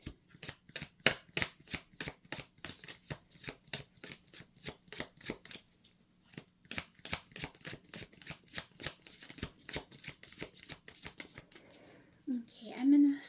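Tarot cards are riffle-shuffled again and again in quick, crisp bursts close up, with a brief pause midway and a short voice at the end.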